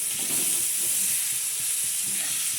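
Oil poured into a pan of browning onions for a green chilli and onion thecha hisses in a steady, dense sizzle, close and continuous throughout with no talking.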